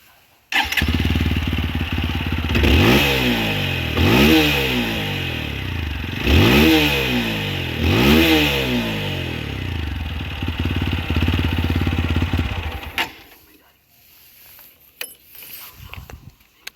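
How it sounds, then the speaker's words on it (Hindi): A TVS Apache RTR 160 4V motorcycle idles close by and is revved four times in a regular rhythm, each rev rising and falling, before the engine cuts off near the end. "इसका एग्जॉस्ट साउंड जो दे रखा है"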